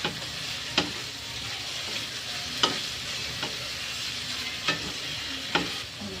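Carrots sizzle and fry in a pan with a steady hiss, while a utensil stirs them and gives a few distinct scrapes and knocks at roughly one-second intervals.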